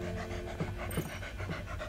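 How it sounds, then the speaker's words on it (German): Steady, rhythmic dog panting fills the scene in the stealth video game Splinter Cell Blacklist, close and continuous with quick breathy pulses, with no talk over it. "Hört sich an wie ein Köter."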